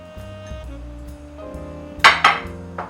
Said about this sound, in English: Stir this well, letting all of that cheddar cheese melt into the grits